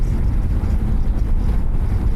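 Strong wind buffets and roars across the microphone while riding a Benelli TRK 251 motorcycle at high speed, a steady low rumble, constant and loud with no other sounds standing out.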